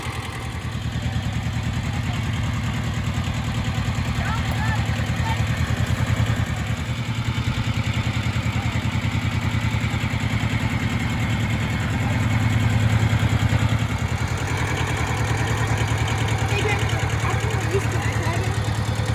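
A small green tractor engine runs steadily at close range, a continuous low chugging idle with rattly clatter, persisting unbroken for the full stretch.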